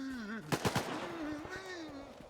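A quick burst of three or four gunshots cracks out in a video game, followed by a few fainter scattered shots, while a voice speaks over and around them.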